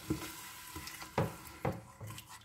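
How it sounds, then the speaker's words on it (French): Kefta soup simmers in a pot on the stove with soft sizzling and several distinct stirring scrapes and clinks, close and quiet, spaced roughly every half second, with no talking. "On laisse mijoter pendant 5-6 minutes"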